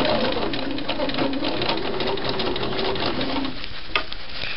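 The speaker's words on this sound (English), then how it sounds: "I'm going to stitch right in the fold that I pressed in." A sewing machine stitches a collar stand along a pressed fold, a fast, steady mechanical rattle that runs close and unbroken, with a soft voice faintly present underneath.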